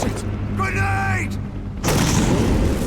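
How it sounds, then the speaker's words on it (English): A grenade goes off in Metal Gear Solid V, a sudden loud blast near the end that follows a stretch of tonal game sound and mechanical noise, with the burst's roar carrying on to the close. "Grenade!"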